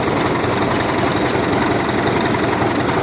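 The small pony motor on a Caterpillar D4 crawler tractor runs at a steady, loud, close-up idle, its rough, even chugging unbroken throughout.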